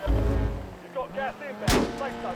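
A single sharp, loud sniper shot cracks out during a Call of Duty: Warzone match, following someone talking and briefly standing out on its own.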